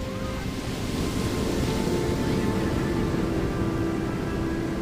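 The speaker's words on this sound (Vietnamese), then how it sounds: "Tiếng nước bắn tung tóe và ầm ầm vang vọng khắp đại dương" Ocean water churns and splashes in a continuous rumbling roar, steady and dense throughout with no pauses, in a cold Siberian or Alaskan sea setting.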